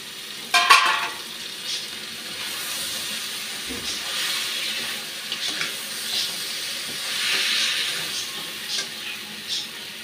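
Tengra fish and lentil dumplings (daler bori) sizzling in a hot pan of well-fried spices, a steady hiss with stirring scrapes and a sharp burst near the start, no talk.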